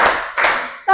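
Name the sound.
hands clapping in counted claps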